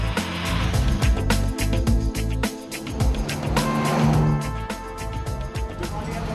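A Mini Cooper rally car is driven hard along a winding stage road, its engine snarling loud and close with steady, unbroken revving and occasional tire squeal, and no voices.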